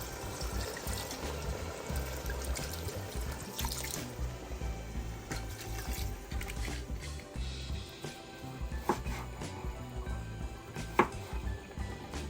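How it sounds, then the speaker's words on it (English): White wine poured into a hot pot to deglaze a seafood soup base, a soft liquid splashing and bubbling hiss with small crackles, fairly quiet and continuous. "Let me deglaze this with some white wine."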